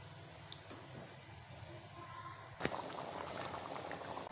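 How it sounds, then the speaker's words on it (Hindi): Reserved water from boiled chickpeas poured into a cooking pot, a steady soft liquid stream with a sharp clink partway through, faint and continuous, no talking. "अब बॉयल किए हुए चनों में से जो निकाला हुआ पानी था तो हाफ़ हम ऐड कर देंगे।"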